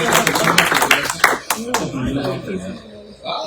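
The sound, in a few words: church congregation applauding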